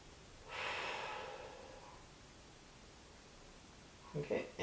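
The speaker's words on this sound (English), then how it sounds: "Then I take a few deep breaths." Someone lying in a foam-roller thoracic stretch takes a long, deep breath, a clear, close airy exhale that fades out, followed by quiet and a few short soft sounds.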